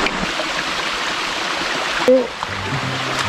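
Creek water flows steadily in Stephenson canyon, a continuous close rushing hiss, with a brief short voice cry partway through.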